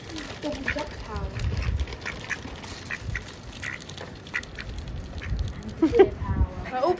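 Ducks quack repeatedly at close range while being hand-fed in a wildlife area at Centre Parcs Elveden Forest, their calls mixed with nearby voices talking and moving around.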